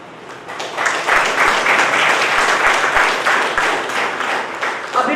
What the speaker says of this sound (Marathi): जोरदार टाळ्या अर्पितसाठी